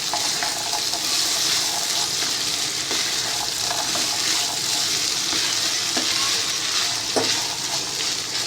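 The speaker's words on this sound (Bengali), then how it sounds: "ভালো করে মিশিয়ে দিচ্ছি।" Boiled chickpeas and potatoes sizzling and being stirred in a pan for chola, a constant frying hiss with scattered scrapes and clicks of a utensil against the pan, close and steady.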